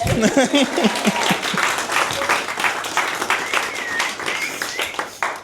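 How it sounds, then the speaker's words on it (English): Wedding guests in a barn venue break into loud, dense applause during the speeches, steady clapping with a few cheers and voices mixed in near the start, then tapering slightly toward the end. "Round of applause."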